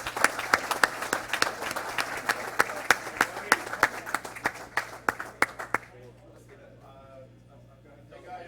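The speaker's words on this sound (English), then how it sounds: "One more big round of applause." Audience at a Southwest Ranches town council meeting breaks into loud, fast clapping that fills the room for several seconds, then fades into low murmuring room noise.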